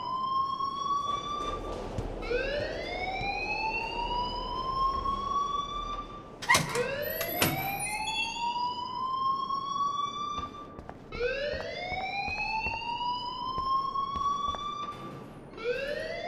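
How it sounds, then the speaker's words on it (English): A wailing fire alarm in the video game Life is Strange rises and repeats in long sweeping tones, loud and steady, with a brief harsh burst partway through. "please turn off that alarm since that's your job"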